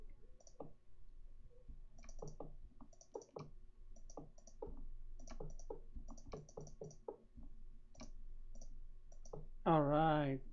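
Computer keyboard keys click in quick irregular bursts while Minecraft is played, sharp near taps spread through the whole stretch, ending with a brief tonal game sound.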